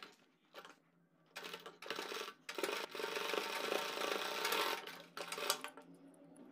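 A sewing machine stitches fabric to attach a neck design pattern, running in several quiet bursts of a few seconds each, broken by brief pauses.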